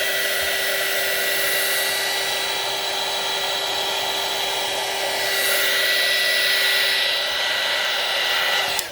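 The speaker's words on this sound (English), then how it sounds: "I get aggressive with my heat tool." A heat tool blows steadily and loudly over art journal inks, a continuous even hum-and-hiss with a steady tone running unbroken for the whole stretch, no talking.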